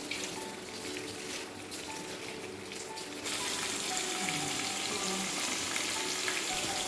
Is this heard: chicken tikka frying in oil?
yes